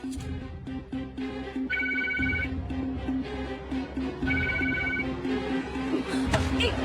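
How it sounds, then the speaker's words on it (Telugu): An unanswered phone rings in two repeated bursts of trilling tone over a steady low background hum, with no voices. "ఈ రమ్య ఎందుకు ఫోన్ తీయట్లేదు?"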